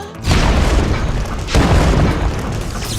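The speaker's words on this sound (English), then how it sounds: "The electric match instantly ignites the methane, oxidizing it and forcing it to explode outwards." Methane ignited by an electric match bursts into a loud, close boom, then a long rumbling roar with a second surge partway through, no talking.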